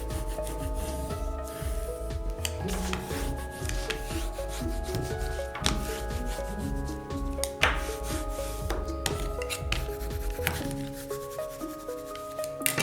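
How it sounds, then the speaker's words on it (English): Covering material being firmly burnished down onto a hardcover journal by hand, producing a continuous close rubbing scrape with a steady back-and-forth rhythm. "now I really burnish it to make sure it sticks"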